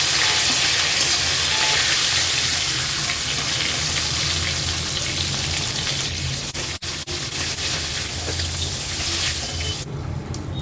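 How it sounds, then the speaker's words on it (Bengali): Whole garam masala spices sizzle steadily in hot oil, the leftover frying oil from browning spiced meat, a loud continuous crackling hiss that runs nearly unbroken with a brief dip partway through. "এই গোটা গরম মশলাটা ফোড়নে দিয়ে দিচ্ছি"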